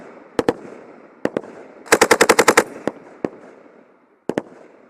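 Small arms gunfire at Marines and French Foreign Legion training: sharp, loud shots coming singly and in pairs, with one rapid burst of about eight in the middle, then quiet gaps.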